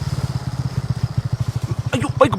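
A motorcycle engine chugs nearby in a fast, even low pulse, then a voice cries out over it near the end.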